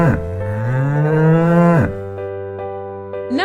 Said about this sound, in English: Cow says moo, moo.